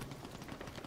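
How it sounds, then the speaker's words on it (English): Continuous rapid gunfire from the PvPvE free-to-play shooter Hawked rattles steadily through the whole moment, dense and fairly loud, like sustained automatic bursts nearby with no gaps. "He's actually shooting."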